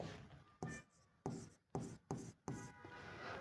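A pen writes in short separated bursts of scratching strokes, close and fairly quiet, with pauses between words; no one speaks.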